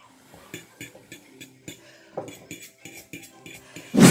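Metal cutlery clinks and scrapes against a bowl of Samyang Korean hot spicy chicken noodles, a series of quick irregular taps at close range, ending in a louder clatter.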